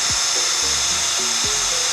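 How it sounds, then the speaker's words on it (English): Power drill running on a Mitsubishi Evo 9 during a timing belt job, a loud, continuous high whine with brief dips and pitch shifts as the motor bogs and recovers. "I am going to drill a hole in there and then see if I can get another one in there"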